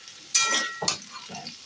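Drumstick (moringa) pieces go into potatoes frying in a wok, and two sharp bursts of sizzling give way to a quieter hiss.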